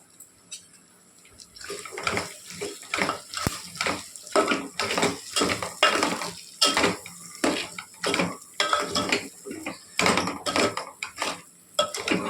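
Mutton keema being stirred in a pan for a fry, with a spoon scraping and clanking against the metal in quick, uneven strokes. The sounds are close and moderately loud, and no one speaks.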